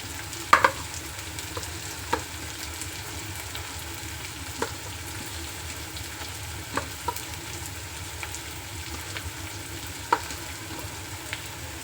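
Sliced onions fry in a pan for kanda poha, giving a steady close sizzle with occasional light taps and spatters throughout, with no speech.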